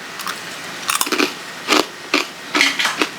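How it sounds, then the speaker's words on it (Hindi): Repeated crunchy bites into a jaggery laddu, several sharp crackling crunches spaced unevenly over a few seconds, close and loud with no talk. "क्रंच दिखाऊं, आवाज़ सुनना।"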